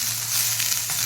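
Vegetables sautéing in a pan give a brief, steady close sizzle with a faint low hum underneath.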